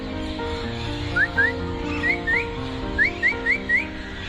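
Quick, chirpy whistled notes in short bursts, two, then two, then four, imitate a bird's call over a steady low hum.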